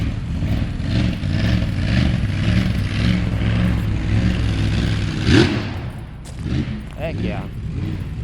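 A box truck's big-block engine rumbles loud and deep with rough, throbbing revs that surge and fall, while voices talk over it.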